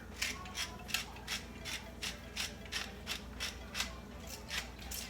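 A pepper grinder is twisted over seasoning with garlic and onion powder, giving a close rhythmic series of about a dozen dry ratcheting crunches, evenly spaced, with no talk.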